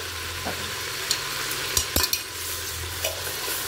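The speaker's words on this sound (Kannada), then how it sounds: "ಇದೆರಡೂ ಕೂಡ ಹಸಿ ವಾಸನೆ ಹೋಗೋವರೆಗೂ ಸ್ವಲ್ಪ ಫ್ರೈ ಮಾಡ್ಕೊಳ್ಳೋಣ" Ginger and garlic paste fries in hot oil with a steady close sizzle, broken by several sharp scraping clicks of a spoon stirring the pan.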